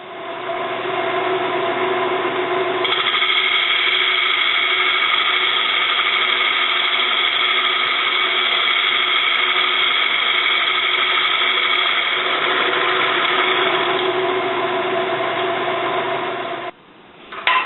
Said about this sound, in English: we're going to make a face cut just on this outside edge